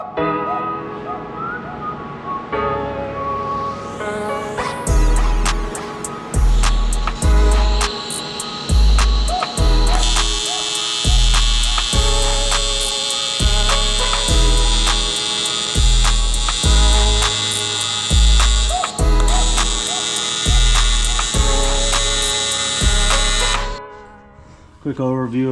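Welding a 3-link mount onto a third-generation Toyota 4Runner, with a buzzing, crackling arc in repeated short bursts separated by brief pauses, loud and close, running for over twenty seconds.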